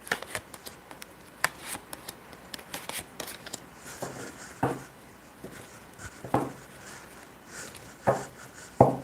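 Tarot cards are shuffled by hand in quick, irregular riffling and slapping bursts, fairly close and quiet, with pauses between runs of shuffling.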